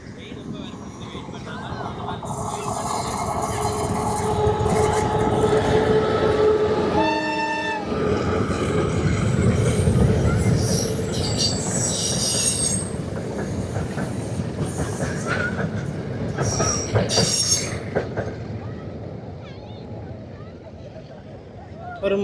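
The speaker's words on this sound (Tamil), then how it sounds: "ட்ரெயின் வருகுது பாருங்க." A train passes near a village bridge in Jaffna, a loud continuous rumble with clattering wheels and a brief horn blast, swelling and fading as it goes by, with people talking faintly in the background.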